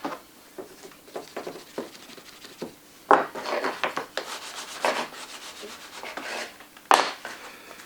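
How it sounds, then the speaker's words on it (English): A leather knife sheath edge being burnished by hand gives dry rubbing strokes, a quick run of light rubs followed by bursts of louder, harsher friction with two sharp scrapes. "That's the burnishing done."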